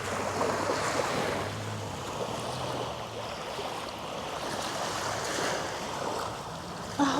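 Waves wash steadily onto a coral-strewn beach on Koh Samui, a continuous broadband surf rush with wind noise, fairly even in level and faint, no talking.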